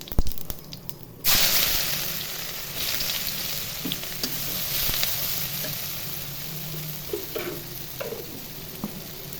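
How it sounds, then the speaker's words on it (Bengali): Chopped onions hitting hot oil already seasoned with fried cumin seeds, a sudden loud hiss that settles into steady crackling sizzle with occasional stirring clicks, no voices. "এখন পেঁয়াজ কুচি দিব।"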